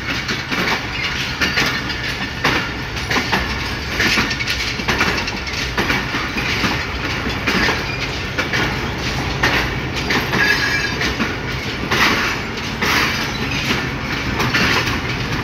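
A locomotive hauls a train through Lahore station on its way to the washing line. The rumble is steady and continuous, with faint rail clatter and the occasional wheel squeal, and no voices are heard.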